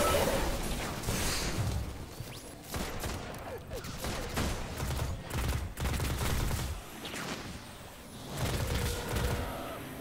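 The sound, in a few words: grenade explosion and gunfire in video game Destiny 2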